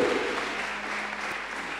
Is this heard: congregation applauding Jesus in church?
yes